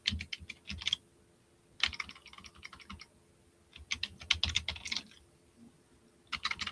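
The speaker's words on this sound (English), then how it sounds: "My typing is worse than usual tonight." Bursts of fast keyboard typing, clattering keystrokes in several runs separated by short pauses, close and fairly quiet.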